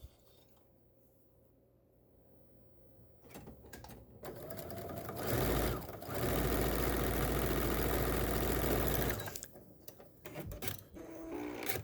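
Sewing machine stitching a line across a quilt label, a steady mechanical whir that runs loud and continuous for several seconds, with quieter handling and motor sounds before and after.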